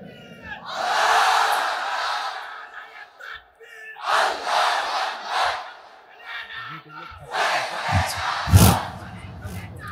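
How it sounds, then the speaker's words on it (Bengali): A sermon crowd shouts the takbir together in three loud, roaring bursts, each a few seconds long, separated by short lulls, with a voice leading between them. "সবাই একটা তাকবীর দেন, লিল্লাহি তাকবীর"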